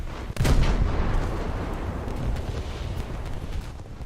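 Naval 40mm anti-aircraft guns fire in a video game, a loud heavy blast opening into a sustained roaring barrage of overlapping reports that rumbles on for several seconds.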